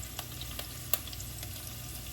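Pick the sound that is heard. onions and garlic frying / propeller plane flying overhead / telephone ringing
onions and garlic frying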